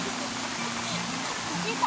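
River water rushes steadily in a rural farm area where children are fishing, a broad continuous wash of flowing water close by, with faint voices and low tonal sounds beneath it.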